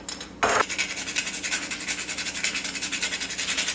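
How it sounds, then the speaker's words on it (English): Freshly grating a whole nutmeg for Jamaican carrot juice: a steady, close, rhythmic rasping of strokes over a grater, repeating quickly and evenly after a short knock at the start. "I'm just going to grate some of that in."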